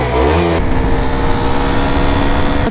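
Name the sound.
Duke 390 exhaust revving on RC200 motorcycle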